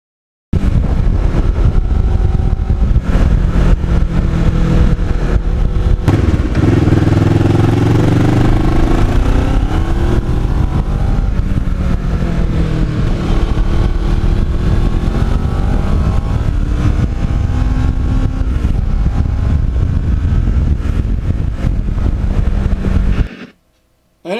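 A motorcycle cruising on an open road, its engine a steady mid-pitched drone with some wind rush and gentle shifts in pitch, loud and continuous for most of the ride before stopping abruptly at the end.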